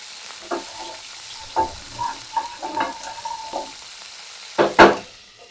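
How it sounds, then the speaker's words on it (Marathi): Cumin seeds drop into hot oil in a pan for a tendli (ivy gourd) masala curry, giving short bursts of sizzling and stirring with a louder crackling flare near the end. "त्यासाठी मी तेल ओततोय त्याच्यात घालते हा जिरा"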